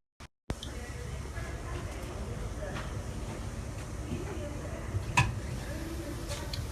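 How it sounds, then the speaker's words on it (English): A steady low rumble of a train pulling out from London to Bristol, heard from inside, with faint rattles and a brief clunk, no one talking over it. "I'm gonna leave you with a little bit of train going from London to Bristol"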